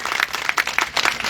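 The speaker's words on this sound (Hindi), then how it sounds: "जोरदार ताली बजा करके इनके सम्मान को बढ़ाइए।" A crowd at a political rally in Ballia applauds, giving a brief burst of dense, fast clapping that sounds close and fairly loud.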